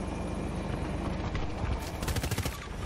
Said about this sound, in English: Enemy helo, 170 meters.